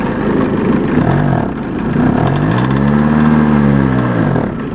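A 1981 Volkswagen Rabbit Caddy pickup with a 1.6 liter engine idles close by, a steady mid-pitched throb that rises into a brief rev and settles again, loud and with no talking.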